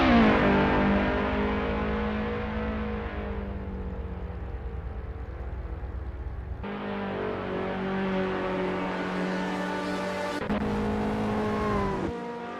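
Engine note of a TCL Ford Capri Mk 1.5 touring car on the Mid Ohio circuit with chicane in Assetto Corsa, a loud, steady harmonic drone that eases off, then surges back on a fresh rise in revs, close and without talk.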